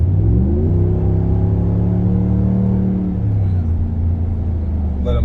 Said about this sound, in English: I'm just getting that kick down one time.